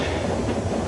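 A train interior with a steady, dense rumble of a rocking carriage running on rails, continuous and close, with no voices.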